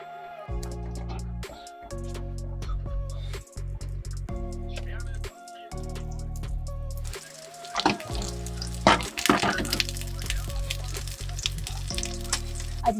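Vegan burger patties fry in coconut oil in a camper van kitchen, a steady sizzle in repeated bursts with clattering, stirring and a brief running-tap sound later.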